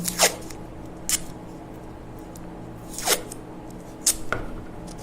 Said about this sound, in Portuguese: Eu vou colocar fita crepe em todo o entorno.